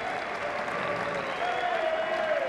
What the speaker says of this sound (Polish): A teraz polscy kibice odezwali się, wiwatując na cześć Marcina Mużdżunka.